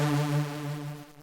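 A retro synth tone built in Serum from high-passed white noise, a single held buzzy note with steady harmonics that fades and cuts off after about a second, alone and clear.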